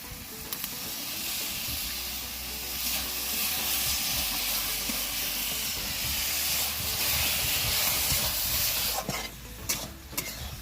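Chicken skins dropped into a pan of spice paste fried down with water, giving a steady loud close sizzle and hiss with stirring scrapes throughout and a few sharper clatters near the end, no talking.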